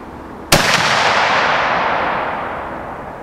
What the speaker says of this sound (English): There's the second shot right there.